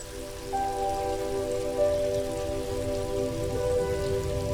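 A waterfall in a small green space pours steadily, a dense continuous rush of falling water with no speech, holding even in loudness throughout.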